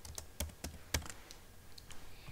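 Fingers type on a computer keyboard in a quiet room, with a handful of crisp, uneven key clicks spaced irregularly and close by.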